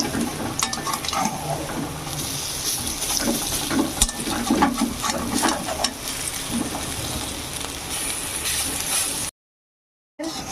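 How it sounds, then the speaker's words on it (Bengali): Chana dal fritters (bora) deep frying in hot oil, a steady close crackling sizzle with occasional utensil scrapes and stirring, cutting off briefly near the end. "এই বড়াগুলো আমি লাল লাল করে দুই পিস ভালো করে ভেজে নেব"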